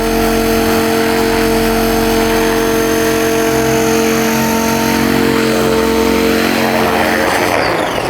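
A homemade radio-controlled helicopter on its maiden flight gives off a loud, steady whine of motor and rotor from close by for the whole stretch. The tone shifts a little near the end as it sets down.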